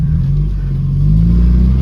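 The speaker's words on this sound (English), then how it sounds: "Oh, the engine sounds sweet as a bloody nut." A 1968 Morris 1100 MK2 engine runs steadily up close, a loud, even low rumble with a slight rise in revs toward the end and no talking.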